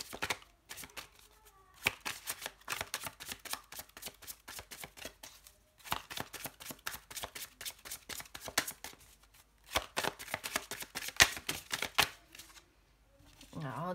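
A deck of tarot cards being cut and shuffled, with bursts of rapid crisp riffling and flicking card noises in close clusters separated by short pauses, plus a faint voice briefly at the end.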